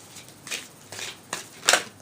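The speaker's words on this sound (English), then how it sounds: "I pray over the cards, and I'm just shuffling it some more" Tarot cards shuffled by hand give soft, papery riffles and flicks in irregular bursts, close and fairly quiet, with a sharper slap near the end.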